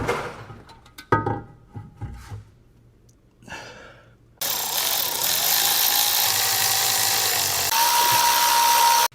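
A ratchet works on the intake manifold bolts of a Dodge Diplomat's 318 V8, clicking in short, quick bursts before a loud, steady broadband rush takes over for the rest of the clip.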